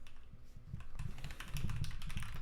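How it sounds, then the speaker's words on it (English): Typing on a computer keyboard, a soft, uneven patter of key clicks that grows busier and slightly louder halfway through, heard close with no voices. "I'm using a different keyboard today."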